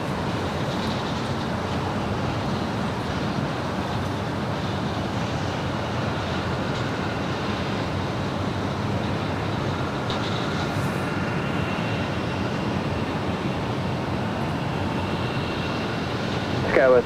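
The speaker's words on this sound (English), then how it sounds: "Our next arrival here on the north side is Spirit Airlines Flight 141 coming in from Baltimore." A Spirit Airlines Airbus A320neo landing at LAX on the north side produces a steady, broad jet roar held at even loudness throughout, distant and continuous, with a voice talking faintly over it.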